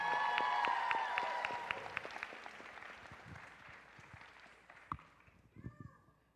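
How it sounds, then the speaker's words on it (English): Loud audience applause at a championship show fills the room, then gradually fades, leaving scattered claps, shuffling and a few sharp knocks near the end. "So let's give them another round of applause."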